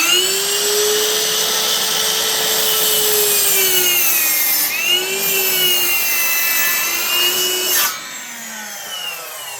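A Ryobi 10-inch cordless sliding miter saw with a 40-tooth carbide blade whines steadily as it cuts a 45-degree bevel through wood, the motor pitch dipping twice under load before the blade winds down near the end; close and loud, no talking.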